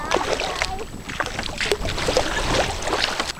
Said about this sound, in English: Sandra, I want you to paddle really hard